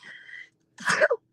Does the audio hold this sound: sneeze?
yes